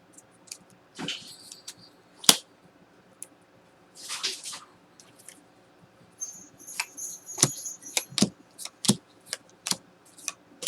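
Soft rustling and slapping of cards being shuffled in short bursts, with scattered light ticks and taps, close by and fairly quiet.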